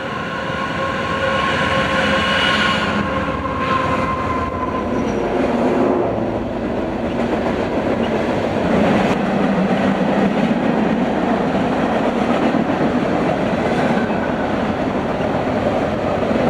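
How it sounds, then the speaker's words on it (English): A train rolls past at close range down Weber Canyon, Utah, a loud continuous rumble of wheels and cars with some clattering, steady throughout with no voices. "the train rolled on through, picking up speed as it goes down Weber Canyon"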